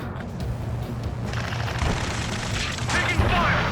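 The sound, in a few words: gunfire in the Ace Combat 7 video game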